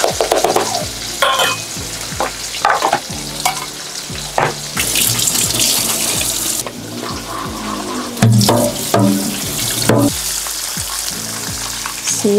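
Running tap water and clattering dishes in a kitchen sink, mixed with constant sizzle of chicken frying and sharp clinks of utensils, fairly close and busy.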